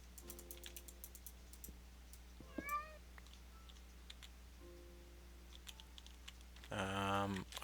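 A cat in modded Minecraft gives a single short meow midway, faint under a steady hum, with scattered keyboard typing clicks before and a louder burst of sound near the end.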